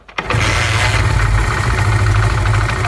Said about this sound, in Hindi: जब बाइक बंद होती है तो एक आवाज़ आती है,